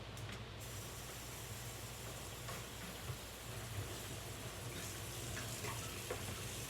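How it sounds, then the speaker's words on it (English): Steady running water from a tap while a mat is rinsed, heard as a continuous even rush at close range with occasional faint knocks, and no talking. "I'm gonna rinse my mat off real quick."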